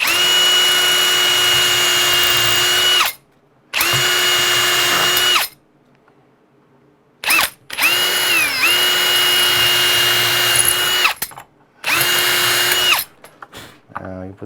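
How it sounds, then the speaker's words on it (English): A cordless power drill pre-drills four screw holes through a wooden door jamb while a Kwikset knob and deadbolt are fitted, running in several loud, steady whirring bursts with brief pitch dips under load and short pauses between holes. "But I am going to pre-drill all 4 of these."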